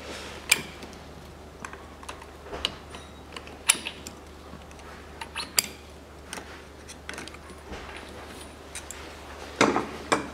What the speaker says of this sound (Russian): Свечку затянул, вытаскиваю головку.